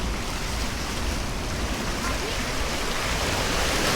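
Water rushes in on a shore in Albania, a continuous broadband wash of surf that stays loud and close throughout, with no clear gaps between waves.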